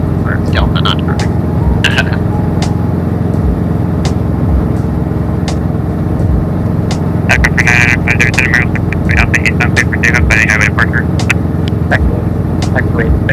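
Inside the cockpit of helicopter 99507, the engine and rotor hum as a steady, loud drone before takeoff on a highway departure, with voices talking over it throughout.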